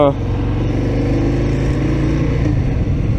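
Harley-Davidson Breakout 114 motorcycle engine running, a loud, steady low rumble close by that fills the whole clip without a break.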